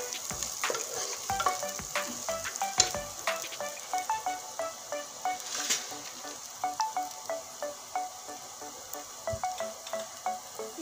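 Onions sizzle and crackle steadily in a hot pan, with repeated scraping stirs from a spatula setting up an uneven rhythm, close and clear with no voices.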